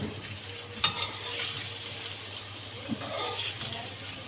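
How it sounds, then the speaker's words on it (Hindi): Chicken pieces frying in oil for Balochi tikka, a soft steady sizzle close by with a few light stirring knocks, no voice over it. "देखिए हमारी ये चिकन इसमें फ्राई हो रही है"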